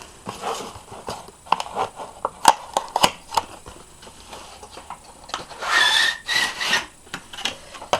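A velvet-lined plastic box holding a Bellatrix Lestrange replica wand is opened with a series of sharp clicks, scrapes and rubbing handling noises, then a louder rustling burst toward the end.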